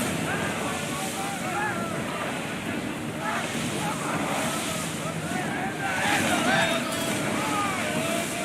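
Wind and crashing sea waves surround a ship during a naval battle in Assassin's Creed Odyssey, a continuous loud rushing roar with gusty swells and shouted voices mixed in.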